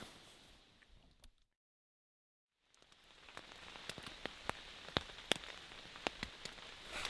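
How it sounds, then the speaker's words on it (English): Rain patters on camping tents overnight, a soft, scattered drizzle of faint taps and sharper drops that cuts out briefly, then returns with denser, closer hits. "It has been raining literally all night."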